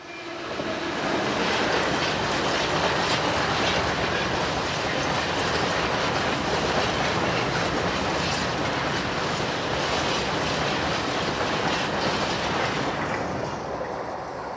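Diesel unit 158854 passes freight locomotive 66158 hauling empties on a British line near Grimsby, a loud continuous roar of wheels and rail clatter close by throughout.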